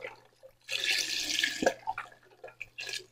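Vegetable broth poured into a pot of Hungarian mushroom soup, a faint close splashing and trickling of liquid with a few small drips and clinks.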